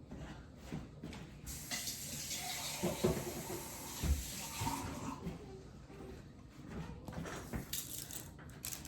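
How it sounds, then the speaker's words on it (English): Hands washed under a running tap while preparing crispy smoked chicken wings on a Masterbuilt 800 Gravity Series grill, a steady mid-level splash of flowing water lasting several seconds with a few louder bursts and clatters. "Wash my hand real quick."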